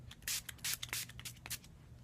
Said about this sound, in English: I just like to spray this all over my face after I do moisturizer